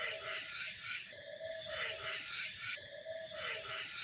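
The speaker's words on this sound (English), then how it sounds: "That is a barred owl." A barred owl calls in a wooded outdoor setting at night, faint and distant hooting notes ending in a trill, repeated over a bed of insect chirps and other night sounds.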